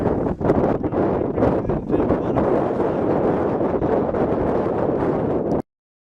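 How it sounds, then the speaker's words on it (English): Strong wind buffets the microphone outdoors in Alaska in continuous rough gusts and rumbles, loud and close, then cuts off abruptly near the end. "A little windy today, which is so nice."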